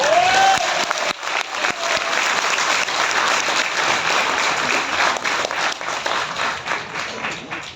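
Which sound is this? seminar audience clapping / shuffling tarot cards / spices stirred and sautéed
seminar audience clapping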